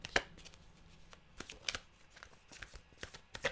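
A deck of tarot cards being shuffled, quiet close riffles and slaps in several short bursts with pauses between them.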